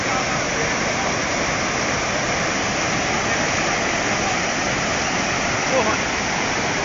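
Steady, loud rush of a waterfall at its entrance in Mutuípe, Bahia, filling the whole stretch as a continuous roar with no breaks, the water noise dominating throughout.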